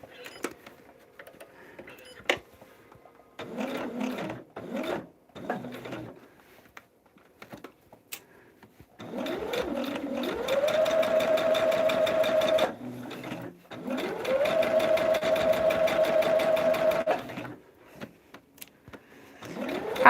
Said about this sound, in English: So we're just sewing on this solid line.